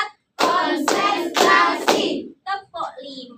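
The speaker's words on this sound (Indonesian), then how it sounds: "tepuk tangan untuk kita semua" Rhythmic hand clapping from a classroom group during a micro-teaching chant, several loud bursts of claps close together followed by short vocal calls between them.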